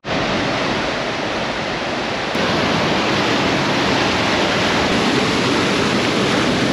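Waterfall near Bariloche, Argentina, roaring as a steady, loud broadband rush that fills the whole stretch without a break; the sound is close and even throughout, with no voices.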